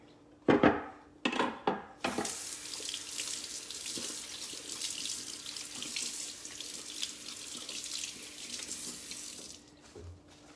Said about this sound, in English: all you gotta do is wash it off with water